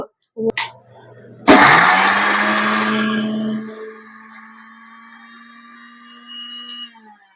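A mixer grinder whirs loudly for about two seconds after a couple of clicks, then winds down into a fading whine.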